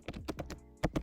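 Quick keystrokes tap on a computer keyboard, close and fairly quiet, in an uneven burst of several clicks with a short pause before two final, firmer presses.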